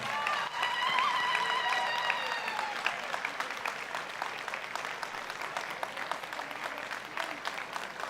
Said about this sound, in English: another round of applause for our Chancellor